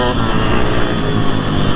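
Motorcycle ridden around the Arncott Moto Park motocross track, its engine a steady, close drone with no break throughout.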